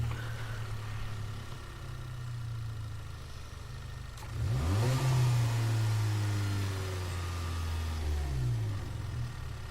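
Audi TT coupe race car in Gran Turismo Sport, its engine idling steadily before climbing into a loud rising rev with gear-change sweeps, heard alone without talk.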